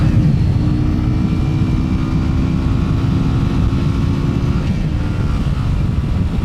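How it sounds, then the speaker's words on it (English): A 125cc Keeway motorcycle engine drones steadily at high revs near full throttle, a constant buzzing hum with wind noise, close and loud throughout. "Get some revs on."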